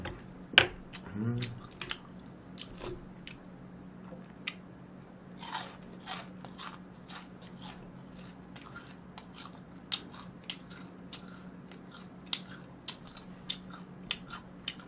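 Crispy fried chicken gizzards and fries are eaten close to the mic, with sharp crunches and wet chewing that come irregularly over a low steady hum.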